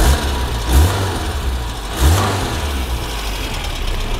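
A Talbot Solara saloon car engine revs in two short swells of low mechanical rumble, close and fairly loud, over a steady engine hum with no talking.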